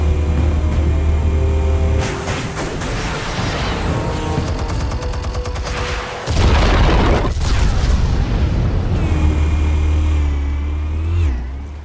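Explosives detonating in Batman: The Telltale Series, loud booming blasts with a fresh burst near the middle, layered with rumbling, debris and ringing game effects across the whole stretch.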